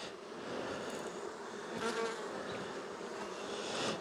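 Honeybees buzzing in an opened hive while nucs are being made, a dense, steady hum of many insects close by, with a few louder passes of single bees.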